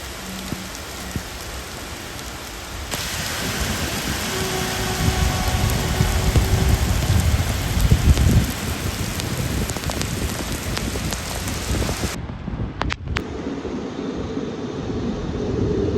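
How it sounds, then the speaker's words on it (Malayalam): Heavy rain roars steadily, heard from inside a passenger train between Kollam and Trivandrum, with a low rumble of the moving train underneath and a sudden change in the sound near the end. "ഇപ്പൊ ഫ്രണ്ടിൽ നല്ല മഴയുണ്ട്"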